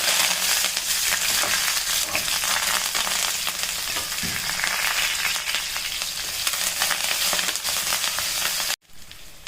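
Shallots, curry leaves, green chillies, garlic and ginger sizzling in hot oil for a potato masala, a dense, continuous crackling fry heard close and alone, cutting off abruptly near the end.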